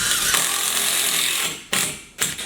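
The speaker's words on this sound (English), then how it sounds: "It's amazing how you can screw into lightweight concrete, just like that." Screw driven by a power driver into a lightweight concrete floor through a metal track, giving a close, rough grinding whir that stops and then gives two short ratcheting bursts.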